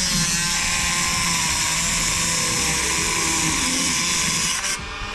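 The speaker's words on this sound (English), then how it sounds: "Take the Dremel." A Dremel rotary tool grinds through a rusted M6 bolt, a loud, steady high-pitched whine that holds constant for several seconds before dropping off at the end, with no voices.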